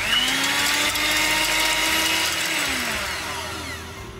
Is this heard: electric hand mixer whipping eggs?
yes